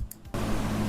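A room fan and an air cooler run at full speed, picked up by a wireless mic with noise cancellation off, as a sudden steady broadband whoosh that holds after a brief quiet start.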